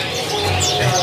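Small caged birds at a kiosk in the Pramuka bird market, including green munias, cooing and chirping in a steady chorus with someone talking over them.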